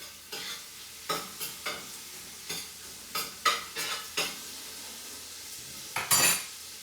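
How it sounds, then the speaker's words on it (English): Bacon frying for carbonara is stirred in a pan, a steady sizzle broken by a dozen sharp scraping and clinking spoon strokes at an uneven rhythm, close and without speech. "So I'm going to stir my"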